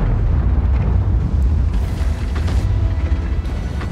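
Explosions in World of Tanks, a dense low rumbling roar with booming blasts that swell and fade, loud and continuous throughout with no voices.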